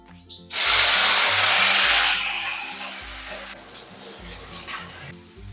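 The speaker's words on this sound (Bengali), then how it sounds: "এবার দিয়ে দেব ফুলকপি আলু।" Cauliflower and potatoes drop into hot oil with tempering and a torn green chilli, setting off a sudden loud whooshing sizzle that stays intense for a couple of seconds, then settles into a steadier, softer frying hiss, close up with no talk.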